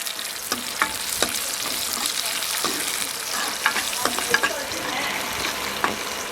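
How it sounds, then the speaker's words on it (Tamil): Tempering of vadagam and dried red chillies crackling and sizzling in hot oil for a stem-amaranth greens kuzhambu, a steady dense fry with sharp pops and stirring clicks throughout. "இப்போ பாருங்கள் தாளிப்பு போட போகிறோம் இது பாருங்கள் வடகமும் காஞ்ச மிளகாவும்"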